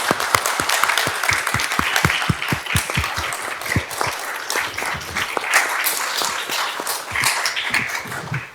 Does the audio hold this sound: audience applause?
yes